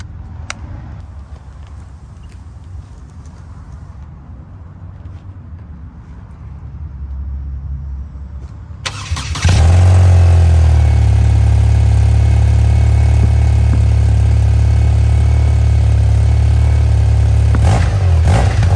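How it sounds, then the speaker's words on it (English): BMW R12 motorcycle with stock exhaust and boxer engine: quiet handling noises, then the engine cranks and fires at around nine seconds, settling into a loud, steady, throbbing idle close by until the end. "let's get this started and see what it sounds like."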